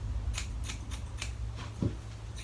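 Thinning scissors snip through a young man's very thick hair during a home haircut, giving five or six crisp, close metallic cuts in an uneven rhythm over a steady low background hum.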